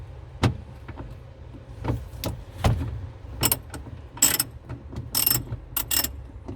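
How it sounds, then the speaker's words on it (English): A ratchet spanner undoes a nut inside the boot of a Ford Ka, giving bursts of sharp metallic clicks in an irregular rhythm, close and fairly loud, with brief pauses between strokes and no talk. "You've got to undo the nut here."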